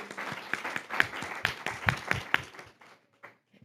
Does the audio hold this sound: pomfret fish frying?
no